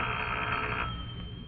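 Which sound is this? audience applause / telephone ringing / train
telephone ringing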